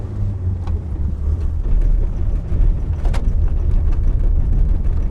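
Ford Ranger pickup engine pulling in gear under heavy load, a loud steady low drone heard from inside the cab with faint rattles over it.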